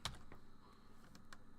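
A few quiet, scattered keystrokes tap on a computer keyboard, with a sharper click at the start and soft clacks spread out over a second and a half of near silence.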